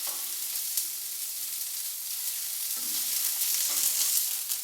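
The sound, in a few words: meat searing in the cooking pan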